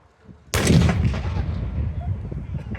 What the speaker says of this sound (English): Explosion and a lovely flash there from the back.